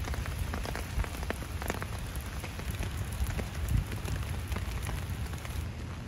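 Steady rain falls on a city street outside an assembly building, a dense even patter with scattered nearby drips, no voices.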